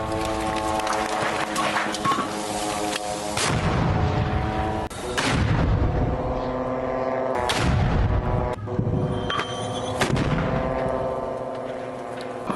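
Mortar rounds fire in a Hamas attack on an Israeli military site, several heavy booms spaced a couple of seconds apart over a steady tonal background.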